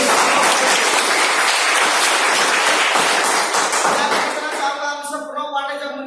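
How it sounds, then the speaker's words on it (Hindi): Loud applause erupts from an audience at a business gathering honoring a guru, dense clapping that holds steady for several seconds, then thins out as a voice begins speaking near the end. "मैं चाहूंगा हमारे गुरु जी को जोरदार ताली होना चाहिए"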